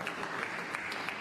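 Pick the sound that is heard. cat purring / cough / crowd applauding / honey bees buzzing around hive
crowd applauding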